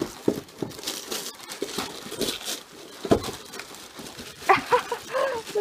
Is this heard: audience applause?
no